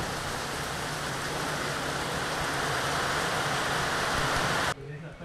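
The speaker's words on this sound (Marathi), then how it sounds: "पाऊस बी जोरात चालू आहे" Heavy rain falls steadily in the Konkan region, a dense, loud and even wash of noise that continues for several seconds and then drops off abruptly near the end.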